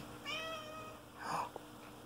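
A cat meows twice, a short rising call followed by a fuller, louder meow, close by and quiet with no one speaking.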